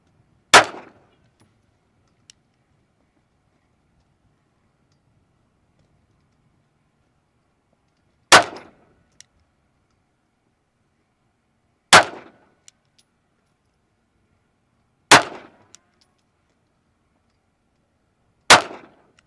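Five sharp, loud pistol shots from a Smith & Wesson Bodyguard 2.0 Carry Comp at an outdoor range, fired one at a time with long gaps of several seconds between them and near silence in between.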